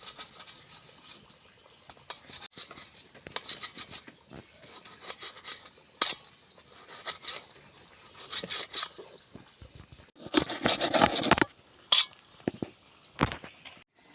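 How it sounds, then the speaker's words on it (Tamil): A knife cuts tomatoes for fish curry in a kitchen, giving repeated close scraping and chopping bursts in irregular rhythm with short pauses between strokes. "இப்போ நம்ம தக்காளியை கட் பண்ணி எடுத்துக்கிடுவோம்"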